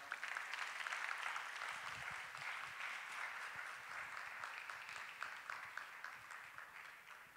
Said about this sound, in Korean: 우리 인사하고 들어갈 때 한번 크게 박수로 격려하겠습니다